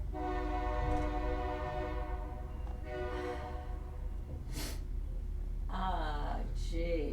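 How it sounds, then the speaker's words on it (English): A train horn blares loudly with steady harmonic tones for several seconds under continuous rail noise, fading near the end as people talk over it. "Even the train agrees with me."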